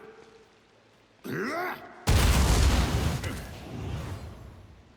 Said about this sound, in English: let's just throw the force grenade